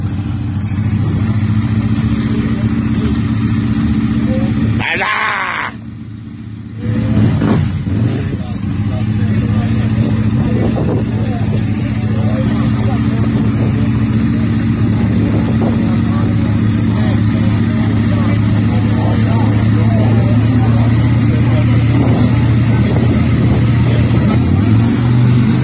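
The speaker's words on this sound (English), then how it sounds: "One of the lads is on a Aprilia race bike and he's going to just say goodbye in style" An Aprilia race bike rides past at close range, its engine revving loudly, the roar rising and staying loud over a continuous motor drone with a brief dip early on.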